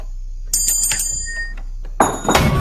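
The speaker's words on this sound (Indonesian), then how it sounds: "mendengar suara lonceng" A bright bell in a horror film rings in a few quick strikes, followed by a louder burst of noisy clatter near the end.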